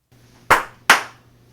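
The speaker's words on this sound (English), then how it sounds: "this spike right here is where I clapped" Two sharp hand claps ring out close and loud, recorded to sync audio with video. They come about a third of a second apart, each with a short decaying room tail over a faint steady hum.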